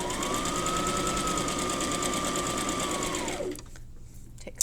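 Sewing machine back stitching fabric strips onto a quilt square, a steady close whir with a rapid mechanical rattle that runs for about three seconds and then stops, leaving quiet handling noises.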